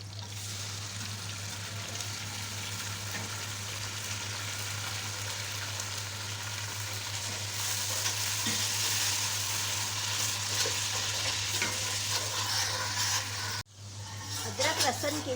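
Ginger, garlic and green chili paste frying in a pot of oil for degi yakhni pulao, a steady close sizzle running throughout that grows louder partway, then a brief drop before the sizzling resumes; a strong low electrical hum sits underneath.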